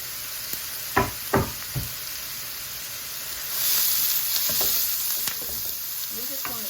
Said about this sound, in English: We just want to saute these up.